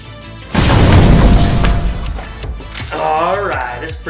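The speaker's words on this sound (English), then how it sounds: "that's a pretty big explosion" A big explosion during a Nerf war werewolf skit: a loud, deep boom bursts in after half a second and rumbles away over the next second or two, followed by a short burst of voice.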